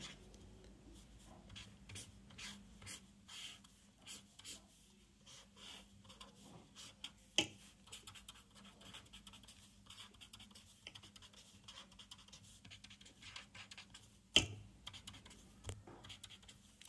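Chalk or pen scratching out a chemical formula by hand during a Bangla carbohydrate chemistry lecture, a faint, steady run of light strokes and taps with two sharper knocks, no talking.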